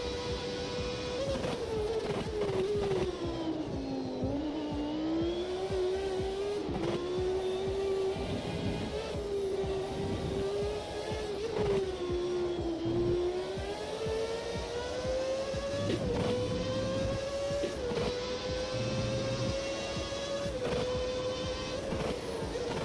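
A race car engine drones steadily in a sim racing game, its pitch rising and falling with gear changes and repeated revving throughout, loud and continuous with no talk.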